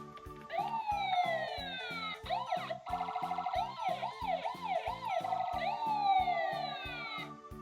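A police car siren wails in rising and falling sweeps, loud and close, shifting between a long whoop and a quicker yelping pattern over a pulsing tone, with no voices over it.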